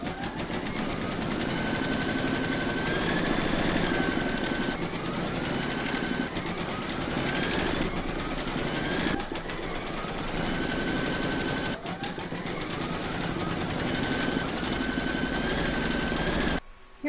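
An embroidery machine stitches a hoop for a large Celtic topper with a fast, steady mechanical chatter and needle knocking, continuous and fairly close, stopping abruptly at the very end.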